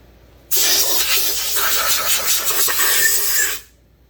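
A Poulan Wild Thing chainsaw engine runs loud and steady for about three seconds, a harsh, hissing buzz that starts abruptly and cuts off just as suddenly, with no other sounds around it.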